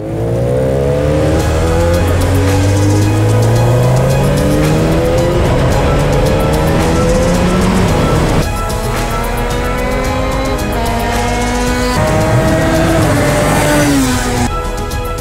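A Radical SR3 race car on track at Virginia International Speedway revs hard through repeated upshifts and downshifts, its engine loud and close throughout.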